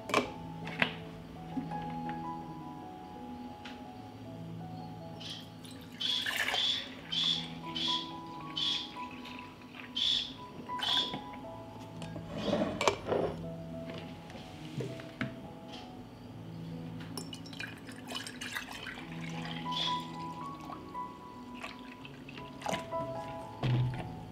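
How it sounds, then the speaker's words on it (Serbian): Milk is poured into clean, washed glass jars for preserving, giving off intermittent trickling and dripping with rising tonal filling sounds that come and go over about twenty seconds. "Mleko ću sipati u čiste i oprane tegle."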